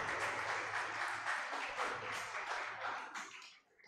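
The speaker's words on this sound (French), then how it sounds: "Vous pouvez donc applaudir ces personnes-là." Adventist church congregation applauding a newly married couple at the close of a wedding celebration, brisk sustained clapping with distinct individual hand strikes, fading slightly toward the end.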